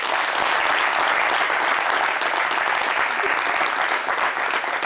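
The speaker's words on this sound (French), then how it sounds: "Avec plus de conviction, applaudissez." Studio audience applause, a dense and loud sustained clapping that stays even throughout with no talk over it.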